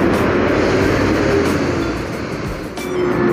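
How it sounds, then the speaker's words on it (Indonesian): Harapan Jaya Patas bus pulling into Tamanan bus terminal in Kediri, a steady loud engine rumble with broad terminal background noise, the engine note easing slightly near the end before rising again. "Datang lagi bus Harapan Jaya Patas pukul 10:33"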